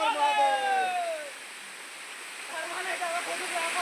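Chura Pahad waterfall pours in a steady broad rush, a continuous wash of falling water heard from nearby, while voices and a rising whistle-like tone sound over it at the start.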